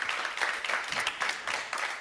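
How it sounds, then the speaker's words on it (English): Audience applause in a lecture room at an academic talk on materiality, a moderately quiet, even patter of clapping filling the short stretch with a few louder pulses. "And let us give them a round of applause to say thank you."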